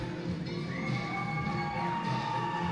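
A wrestling crowd cheering and shouting after a championship match, a steady roar of many voices at moderate distance with no breaks.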